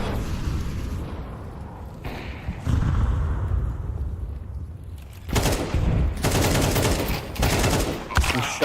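Gunfire in a Counter-Strike pro match, rapid bursts of shots and heavy blasts against pistols, loud and close, in several clusters with short gaps between them.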